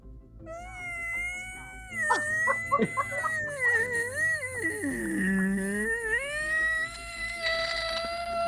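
A man imitates a blue whale's call with his voice, producing long, sliding, wavering moans that rise and fall, swoop down into a deep groan near the middle, and then climb again, loud and close.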